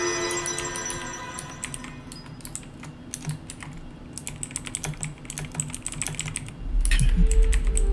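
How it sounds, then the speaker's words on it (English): Loud computer keyboard typing close by, dense bursts of sharp clacking keystrokes in uneven runs with short pauses, over low room noise that grows heavier near the end. "Your keyboard's so loud."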